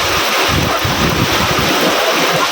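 Heavy rain pours down in a loud, steady, unbroken roar that fills the space close to the microphone, with no voices.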